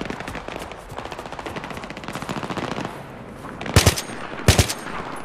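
Rapid automatic gunfire from Battlefield 3's campaign: sustained bursts for about three seconds, then two loud, sharp, close shots or blasts standing out above the fading fire.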